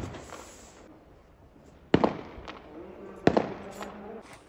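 Firecrackers and fireworks go off outdoors: two sharp, loud bangs a little over a second apart, each followed by a short crackle, over a low background murmur.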